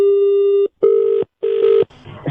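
Telephone ringing as repeated electronic tone bursts, three loud steady rings with short silent gaps, close and clear, cut off at the end.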